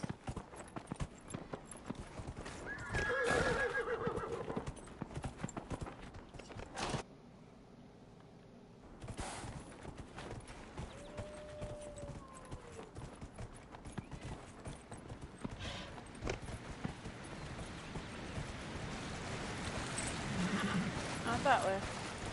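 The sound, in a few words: horse neighing and hooves in video game Dragon Age: Inquisition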